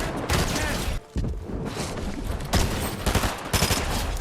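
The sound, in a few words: gunfire in Fortnite video game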